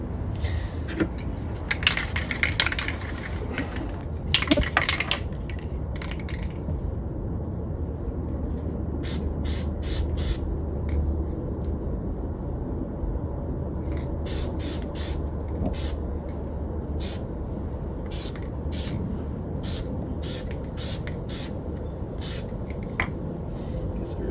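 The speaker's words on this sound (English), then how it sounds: "I've never really tried this spray-on insulation before." A can of spray-on insulation sprays in repeated short hissing bursts, some rapid and others spaced apart, over a low steady background hum.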